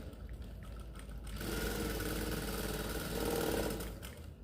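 Sewing machine stitching fabric while a kurti is sewn, a steady close mechanical whirring hum that swells louder partway through and runs without talking.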